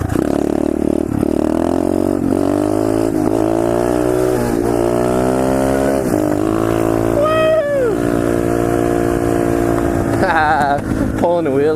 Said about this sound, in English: Pulling a wheelie in front of him.